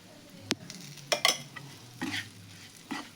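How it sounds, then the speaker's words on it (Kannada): Gram flour is roasted and stirred in ghee for besan laddoos, with a few sharp spoon scrapes and knocks against the pan over a soft sizzle, close and fairly quiet. "ನೋಡ್ರಿ, ಹೆಂಗೆ ಹುರಿಯಾಕತ್ತೀನಿ ನಾನು."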